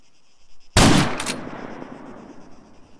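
A single loud, sharp GM6 Lynx sniper rifle shot in the ARMA 3 game, a sudden crack followed by a long fading echo over a quiet background.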